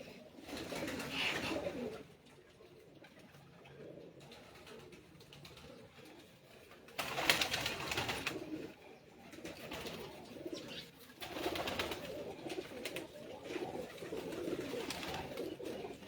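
Badshah breed pigeons on a rooftop give soft, low cooing calls in several bouts separated by quieter gaps, with faint ambient outdoor noise between.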